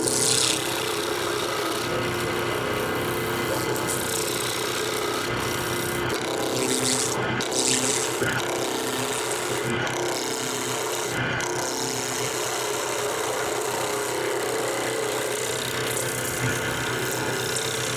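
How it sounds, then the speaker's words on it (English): A woodturning gouge rides its bevel against a spinning wood blank on a lathe between centers, roughing it to round with a steady scraping, shaving rasp that swells and eases with each forward cut. "I'm actually going to use what's called bevel support in this region and just make some cuts forward."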